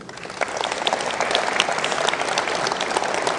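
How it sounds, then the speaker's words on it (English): Steady, full applause from a large crowd at an annual event program, loud and sustained throughout, with dense overlapping claps and no talk on top. "Please acknowledge with your applause Tori Riley"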